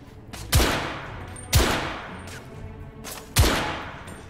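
Three loud, sharp gunshots ring out about a second apart in The Order: 1886, each cracking hard and then trailing off in a long echoing decay, with no voices over them.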